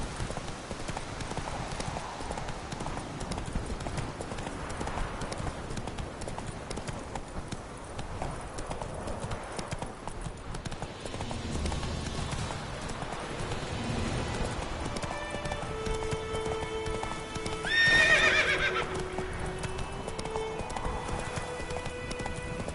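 Horse hooves clip-clop steadily at a gallop in The Witcher 3, with game music playing underneath and a short whinny rising near the end.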